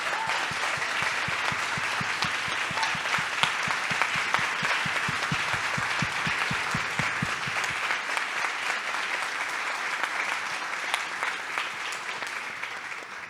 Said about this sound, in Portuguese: pedir uma salva de palmas para o Ricardo Otaki